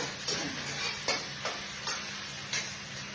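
Meat tipped onto fried onions in a pan, a steady close sizzle with rhythmic stirring scrapes every half second or so, fairly quiet overall and with no voices.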